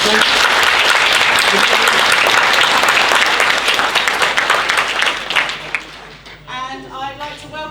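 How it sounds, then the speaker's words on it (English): Audience at a student science congress applauds a speaker, a loud, dense wash of clapping that holds steady, then thins and fades over the last couple of seconds as a voice begins speaking. "So round of applause for Dan, please."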